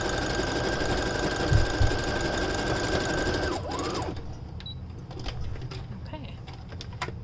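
A sewing machine stitches a beard sock in a steady, continuous mechanical whir that stops partway through, leaving quieter room noise and faint handling sounds.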